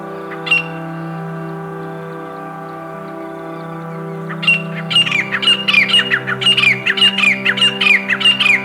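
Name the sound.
grey francolin calls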